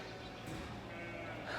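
Sheep bleat on a farm while being moved around the alleyways, a couple of moderately close calls rising over quiet outdoor background.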